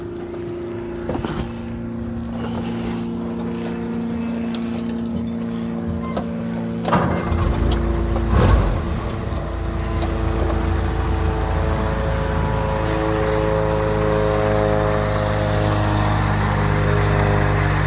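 A 1942 Ford GPW Jeep, over 80 years old, cranks over and fires up, its starter whirring before the engine catches, then settles into a steady, loud, close idle with a rough harmonic drone.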